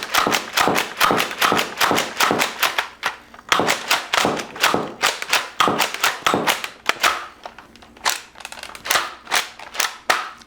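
A Nerf Fortnite DG blaster slam firing: rapid, evenly spaced sharp plastic clacks in three quick volleys of about a dozen shots each, close and loud with brief pauses between bursts.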